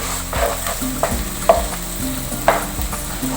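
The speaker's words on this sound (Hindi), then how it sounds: "बस अब हमने इसको अच्छा सा भूनते रहना है।" A spoon stirs and roasts a mixture in a non-stick wok, scraping rhythmically about once a second over a steady, loud sizzle of frying in oil, no voices.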